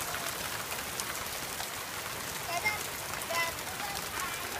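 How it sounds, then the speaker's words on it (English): Steady rain falls outdoors beside a trampoline, a soft, even hiss of drops on surfaces that carries on without a break for the whole stretch, with a few faint bumps in the background. "Look at this rain."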